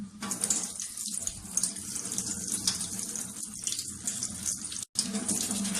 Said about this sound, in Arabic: دي بقى هاخدها تحت الحنفيه، هنضفها خالص بعيد عن الغساله